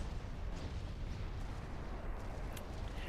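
Naval gunfire from 9.9-inch guns during an Austro-Hungarian battle in Ultimate Admiral Dreadnoughts, a continuous heavy rumble of booming artillery and explosions that blends into a steady low roar without distinct gaps.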